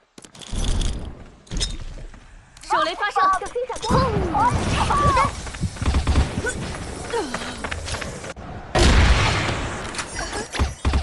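Grenades burst in the mobile shooter Crossfire: Legends, with heavy booms and debris rattle among gunfire and game effects while a voice talks over the action.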